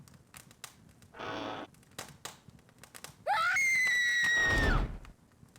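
Lizzie lets out a long, shrill, sustained scream in the horror game Goosebumps: Escape from Horrorland. A shorter wailing burst comes first, over faint background clatter.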